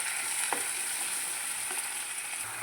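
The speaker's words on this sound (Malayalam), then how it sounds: "നമ്മൾ ചതവുകൾ ഇനി ഇതിൻ്റെ പച്ചമണം മാറണ വരെ നല്ലപോലെ ഇളക്കി കൊടുക്കുക." Crushed masala for a tuna fish pickle frying in a pan makes a dense, continuous sizzle, with a few soft stirring scrapes cutting through the constant hiss.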